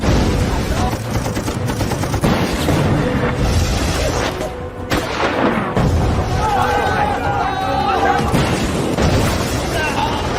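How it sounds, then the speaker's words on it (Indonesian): Iranian troops in a war film blow up Iraqi tanks with RPGs, producing dense, continuous gunfire and heavy explosions with rumbling booms, loud and chaotic throughout, briefly dropping before the barrage resumes. "meledakkan tank-tank pasukan Irak dengan senjata RPG"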